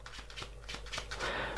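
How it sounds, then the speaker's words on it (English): Close-up false shuffle of a deck of playing cards, a run of quick crisp flutters and snaps building into a brief continuous whir near the end. "let's just do a false shuffle"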